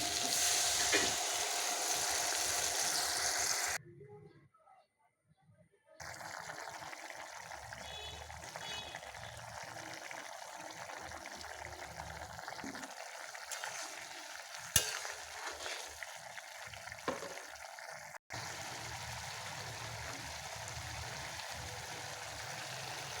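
Potato and poppy seed curry with tomato and ghee sizzling in a pan, stirred with scraping sounds, then water poured in, with a brief hush and a loud steady fizz afterward.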